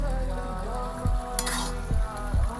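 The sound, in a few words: stirring carrot and coconut with cardamom in a pan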